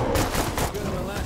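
Rapid gunfire from the zombie survival game State of Decay 2, a dense burst of shots close and loud throughout the short moment.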